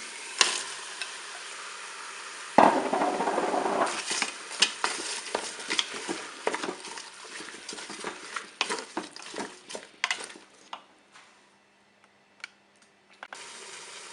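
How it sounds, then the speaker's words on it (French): Bell peppers dropped into a Cookeo pot with pork roast, a sudden sizzle as they hit the hot pan, then scraping stirs and scattered clicks that thin out toward the end. "Je vais maintenant ajouter les poivrons."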